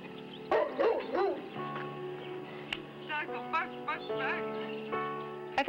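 A dog gives a few short yips and barks, then whimpers and whines, close by, with voices talking over the sounds.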